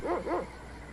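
A dog barks twice in quick succession in the video game Secret of Evermore, a short, clear yapping pair followed by quiet.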